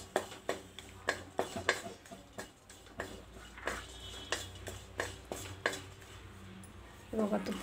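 Raisins roast in a pan while a metal spoon stirs them, giving a steady series of sharp clinks and scrapes against the pan at close range, with a faint sizzle underneath.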